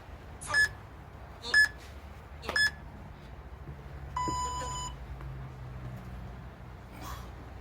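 Workout timer beeping during a push-up routine: three short, loud electronic beeps about a second apart, then a longer sustained tone, over low background hum with no speech.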